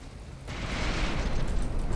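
Armour-piercing shell striking a battleship and exploding in the From the Depths naval combat game, a broad rumbling blast that swells after a brief quieter lead-in and holds loud through the rest.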